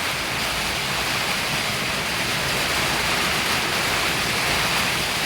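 Heavy rain pours over a village and its farm fields, a loud, unbroken wash of noise that holds steady throughout with nothing else standing out.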